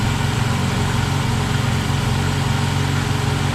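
A 2000 Ford Contour 2.0 engine with a vacuum leak idling close by, a steady, loud low hum with an even droning pulse throughout.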